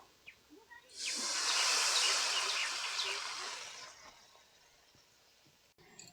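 Water poured into a hot pan of egg curry masala with oil and melted tomato, a loud sudden hiss and sizzle that erupts, holds for a few seconds and then fades to a quiet bubbling.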